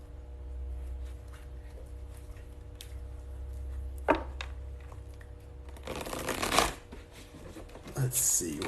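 A deck of tarot cards is shuffled close by in quick riffling bursts, the last few seconds louder and denser, with faint background murmur beneath.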